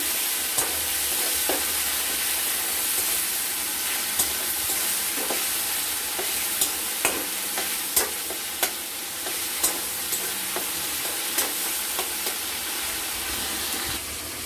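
Masala with turmeric and melted tomatoes is stirred in a pan, giving a steady close sizzle with scattered light spoon scrapes and taps throughout.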